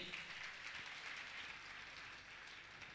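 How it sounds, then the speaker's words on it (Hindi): Faint, steady audience clapping at a Jain religious gathering honouring donors, a soft, even patter of many hands heard at a distance in a large hall. "आप जोरदार इनका ताली बजा के सम्मान करें।"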